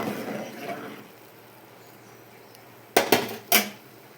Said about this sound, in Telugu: వేసుకొని ఒకసారి దీనంతా కూడా కలుపుకోవాలి.